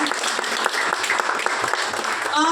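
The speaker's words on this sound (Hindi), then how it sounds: "आप अपने लिए एक बार जोरदार तालियां जरूर बजाएं" Audience at a direct selling industry event breaking into brief, steady applause, clapping close and even for a couple of seconds.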